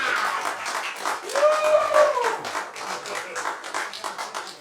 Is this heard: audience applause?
yes